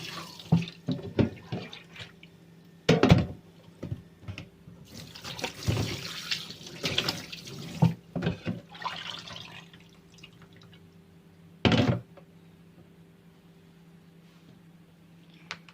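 Salted snakehead fish being prepared for sun-drying is rinsed under a running tap, with splashing, dripping and intermittent bursts of water as the fish is handled in a sink, close by and without voices.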